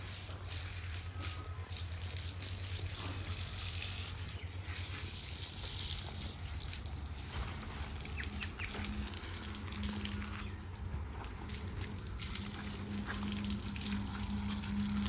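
Continuous gushing warm water running and splashing close by as a dog is bathed, a steady wash with faint rattles and low rumble underneath.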